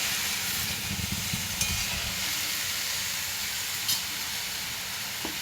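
Bori and potatoes sizzle and hiss steadily in a pan while being sautéed for Bengali aloo posto, a constant moderate frying crackle with a few faint clinks of stirring.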